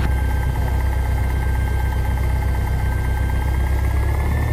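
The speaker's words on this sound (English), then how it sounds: "in the morning like this, I've got it way back because I'm trying to warm the engine up" Light aircraft engine idles on a cold morning while warming up, a steady, loud drone with a constant tonal hum and faint rising whine, continuous and without voices.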